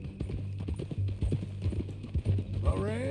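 Hooves clip-clop in a steady walking rhythm in Red Dead Redemption beneath people talking, with a low constant hum underneath.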